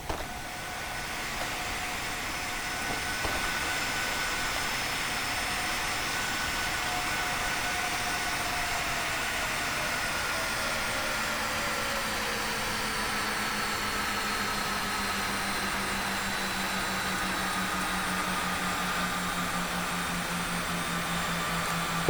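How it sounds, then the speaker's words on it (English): An IXEG 737-300 jet engine in the X-Plane 11 flight simulator spools down, a steady roar with whining tones that slowly fall in pitch over the whole stretch, heard alone without talk. "can we listen to the engine spool down?"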